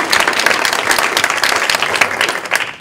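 Audience at a school choice panel discussion applauds a panelist, a loud, sustained burst of clapping from the crowd throughout.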